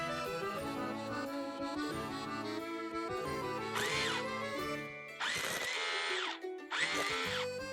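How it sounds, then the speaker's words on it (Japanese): Fitted with a chisel and set to hammer-only mode, a Makita HR202D fires in three short bursts of rattling percussive buzz, each about a second long, over background music. "最後にハンマーモードだ。"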